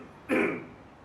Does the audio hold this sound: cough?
yes